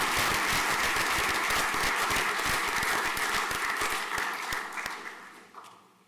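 A school prizegiving crowd gives loud, dense applause for award winners, a sustained wash of many hands clapping close by that gradually thins and fades out near the end.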